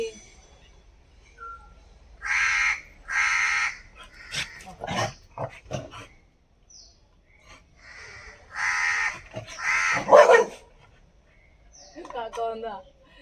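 Crows caw in several harsh, paired bursts spread across the stretch, fairly close and loud, with quieter voices and scattered clicks in between.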